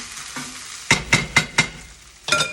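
Potato herb and cheese rosti is pressed down with a small spatula in a frying pan, giving several distinct close thuds and scrapes in an uneven rhythm over a quiet sizzle of frying.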